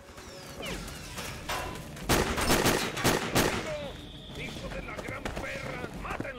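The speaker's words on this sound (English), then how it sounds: "This is a 50 cal M2. It's one of the most iconic mounted machine guns I can think of." A .50 cal M2 mounted machine gun fires in Sniper: Ghost Warrior's jungle turret section, with dense loud bursts of rapid shots around the middle among scattered game effects and ambient noise.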